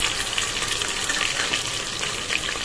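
Ginger garlic paste frying with browned onions in a pan for vegetable pulao: a steady, dense sizzle that holds loud and even throughout, with no voices.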